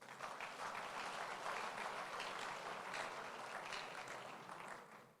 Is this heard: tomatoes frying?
no